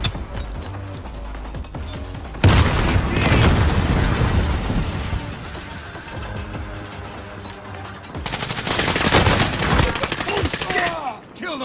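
Flashbang grenade and gunfire in the game Warzone: a sharp blast, then a long stretch of dense, rapid shots and mechanical clatter, with a second loud burst of fire toward the end.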